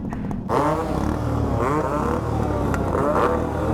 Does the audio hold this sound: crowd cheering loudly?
no